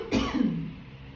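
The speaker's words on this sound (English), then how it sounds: "Oh, hold on, I got a cough." A single close cough followed by a rough throat clear, indoors in a new apartment with renovation dust, loud and brief with a soft decay.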